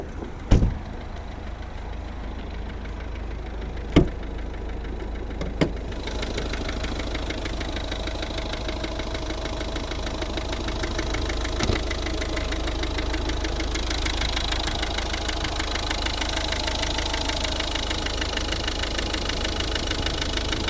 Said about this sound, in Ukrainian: Ну і послухаємо, як працює двигун.